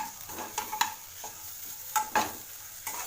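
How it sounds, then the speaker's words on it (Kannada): Small pieces of dosa are stirred together with masala in a hot pan, giving a soft sizzle under repeated scraping strokes of the spoon. The sound is close and there is no speech. "ದೋಸೆ ಪೀಸ್ ಮಾಡಿಟ್ಟಿರೋ ದೋಸೆ ಚಿಕ್ಕ ಚಿಕ್ಕ. ಓಕೆ, ಚೆನ್ನಾಗಿ ಮಿಕ್ಸ್ ಮಾಡ್ಕೊಳ್ಳೋಣ."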